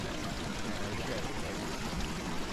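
Steady rushing water splashes continuously, like a fountain trickling and pouring nearby, with no break in the flow, at Tsz Shan Monastery in Tai Po, Hong Kong.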